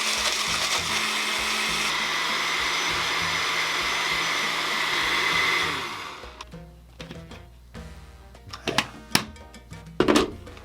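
A blender runs at a loud, steady whir blending a frozen piña colada with ice for several seconds, then shuts off, followed by scattered clinks and knocks of ice and glass.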